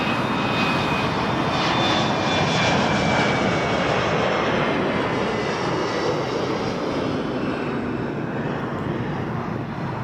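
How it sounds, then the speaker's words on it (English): A Jazz Embraer 175 regional jet takes off at Toronto Pearson, its engine roar loud, broad and steady for the whole stretch, with a faint high whine riding on top early on and easing slightly toward the end. "Jazz 544 to LaGuardia, Embraer"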